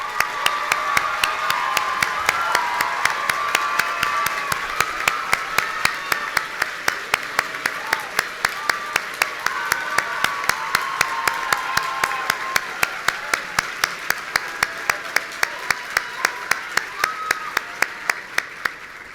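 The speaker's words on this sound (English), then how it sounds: "Please join me in applause." Long, sustained audience applause at a college graduation ceremony for biomedical sciences and neuroscience bachelor's degrees, a thick continuous roar of clapping with regular sharp claps standing out, steady and loud throughout nearly twenty seconds.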